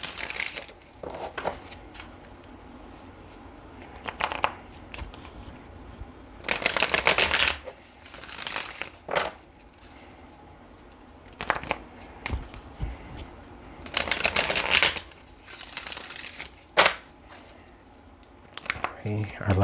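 Tarot cards are shuffled in several brisk riffling bursts, each a second or two long, separated by quieter pauses with soft handling noises.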